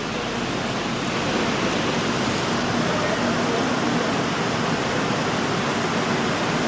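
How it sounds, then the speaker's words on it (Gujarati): Heavy monsoon rain with big drops pours steadily beside a stopped train near Rishikesh, a dense, loud, even wash of noise filling the whole stretch with no letup. "મોટા મોટા છાટે આવે વરસાદ"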